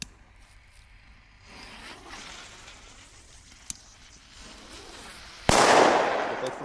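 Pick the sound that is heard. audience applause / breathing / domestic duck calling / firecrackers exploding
firecrackers exploding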